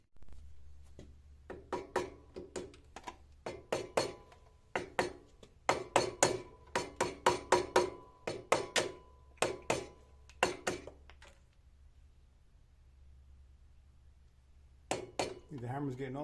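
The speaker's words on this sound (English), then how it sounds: "You can tap it, just kind of work it with like a rubber mallet." Repeated sharp knocks of a rubber mallet in uneven bursts during a Honda Rebel clutch replacement, fairly close and moderately loud, with a quiet pause before a few more strikes near the end.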